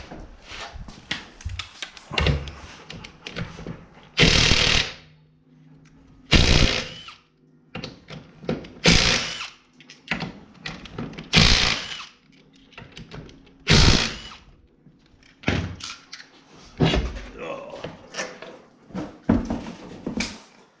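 Lug nuts coming off a 2020 Polaris General XP 1000 utility vehicle wheel with a 19 mm socket, heard as bursts of rapid ratcheting and metallic clicking with brief pauses between nuts, close and fairly loud.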